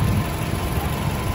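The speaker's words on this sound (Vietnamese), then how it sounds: "Máy này đang nổ êm lắm." A Toyota Camry engine idles smoothly and steadily, a close, even low hum with no revving and no voices.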